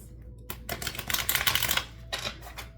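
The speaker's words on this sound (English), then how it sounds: "Let's shuffle one more for you." Tarot cards are shuffled in quick rattling bursts, a close, crisp flurry of papery clicks that swells, pauses briefly, then returns for a shorter final run, with no voices.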